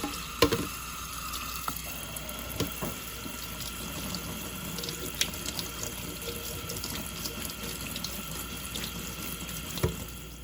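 Cold tap water pours steadily over cooked shrimp in a strainer at a kitchen sink, a continuous rushing splash with occasional clinks and knocks, close and fairly loud, no voices.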